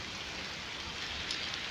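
Afternoon rain falls in Colorado Springs, a soft, steady hiss of drops with a light patter on surfaces, faint and distant, with no voices.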